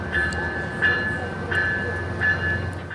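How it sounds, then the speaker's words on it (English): A passenger train rumbles steadily past nearby on a mainline, with rhythmic clicks of wheels over rail joints repeating about every two-thirds of a second and a faint high whine. "the Mainline, which is home to Caltrain, Amtrak and Ace passenger trains"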